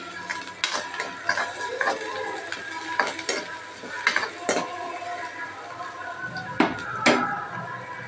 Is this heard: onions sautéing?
yes